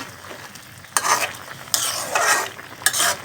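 Curry being stirred in a cooking pot as it boils, three scraping, sizzling bursts of stirring at close range over a steady simmering hiss, with no talking.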